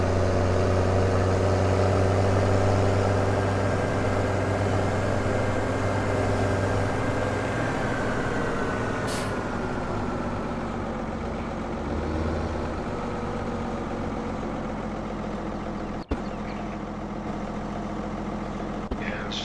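A tractor engine idling in Farming Simulator 17 on a dairy farm, a steady low rumble with a faint whine that softens slightly midway, punctuated by one sharp click near the end.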